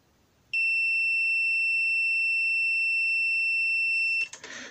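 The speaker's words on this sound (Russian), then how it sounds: "Звуковой сигнал слышали." A multimeter gives one long, steady, piercing electronic beep that holds for several seconds and then cuts off, followed by a brief rustle.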